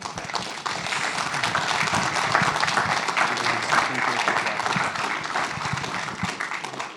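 Audience at a telco conference session breaking into sustained applause, a dense crowd of clapping hands that holds steady and close, with some voices mixed in.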